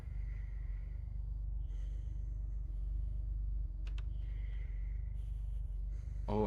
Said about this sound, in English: I can hear the heavy breathings coming from this door